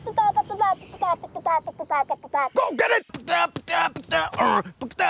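A voice mimics thumping rave music with rapid, aggressive rhythmic vocal bursts, loud and close, broken by a brief spoken shout.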